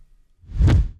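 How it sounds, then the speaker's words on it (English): A reversed kick drum sample from a future bass production swells up from silence into a heavy, boomy low-end rush, rising loudly over about half a second before cutting off. "a trick that I'm doing is to add a reversed kick"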